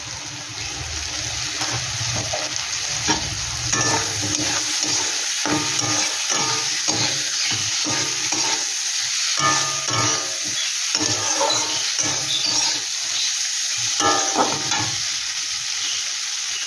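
Onion, capsicum and green chilli stir-fry in a pan for a prawn dish, hissing steadily under repeated scraping stirs of a spatula, with faint trickling water in the background and no talk.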